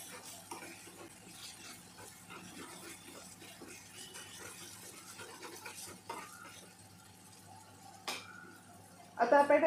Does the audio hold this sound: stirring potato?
yes